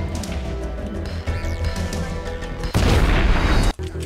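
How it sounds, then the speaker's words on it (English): An explosion goes off in the Max Payne game, a sudden loud, dense blast that bursts in after quieter rumbling and ringing tones, roars for about a second and then cuts sharply away. "Bayağı güzel patlamış şimdi."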